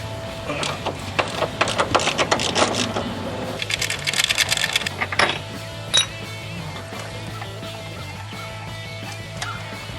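Rear subframe bolts being loosened on a Cadillac with a rapid, rattling ratchet or impact tool, close and busy in bursts, then a couple of sharp metal clinks before steady background hum.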